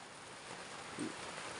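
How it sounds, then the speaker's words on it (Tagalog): Heavy rain falls during the morning around the upper floor of a house, a steady, even hiss that stays at a moderate distance with no voices. "Oh, lakas ng ulan dito."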